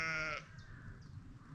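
A sheep bleats once, close and clear, for about half a second at the start, followed by quiet outdoor background.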